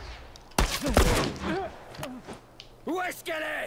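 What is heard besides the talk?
gunshots from a pistol in the video game The Last of Us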